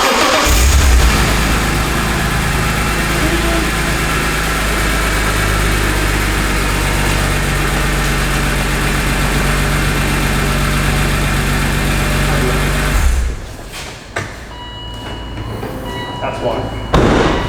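A BMW E46 M3 engine idles loud and close with a steady low rumble for several seconds, then cuts off, leaving faint rustles and knocks.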